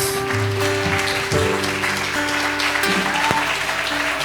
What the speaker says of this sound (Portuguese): Deus, pode ficar melhor essas palmas.